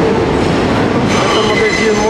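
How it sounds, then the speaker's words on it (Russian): An elevated Q subway train at Brighton Beach, New York, rumbles and squeals steadily overhead, metallic wheel screech and dense low roar filling the whole stretch, with a faint voice underneath. "Вот трейд поехал над головой."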